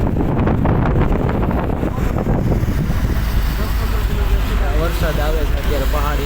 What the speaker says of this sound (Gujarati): અત્યારે બહુ ઠંડો પવન થઈ ગયો અહીંયા.